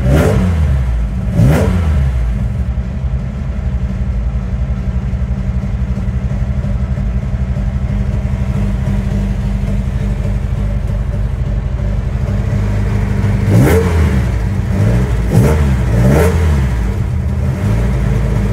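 A Mk.2 Ford Escort RS2000 engine runs loud and steady throughout, with sharp throttle blips that rev up and fall back near the start and several more in quick succession toward the end.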